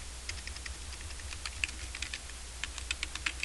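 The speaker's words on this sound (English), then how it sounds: "Let me type" Steady typing on a computer keyboard, a quick, faint run of light key clicks over a low background hum, with no voice.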